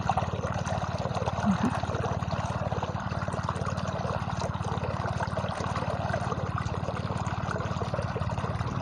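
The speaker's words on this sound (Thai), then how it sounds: "น้ำไหลดีมากเลยค่ะ" Pumped water gushes from a pipe into the furrows of a sugarcane field. It is a steady, unbroken pour with a low pump hum underneath, and no one speaks.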